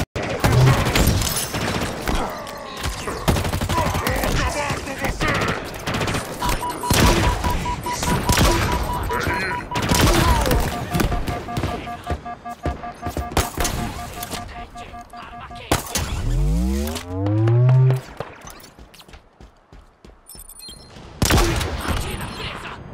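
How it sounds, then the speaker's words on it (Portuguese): Gunfire in the Halo Infinite campaign on Xbox Series X, with dense bursts of weapon shots, booms and explosions, a descending whine and game music, loud and close, mixed with shouted character dialogue. "Estão atirando em nós!"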